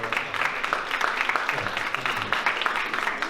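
An audience at a festival in Nice applauds in a steady patter of clapping that fills the room at moderate loudness.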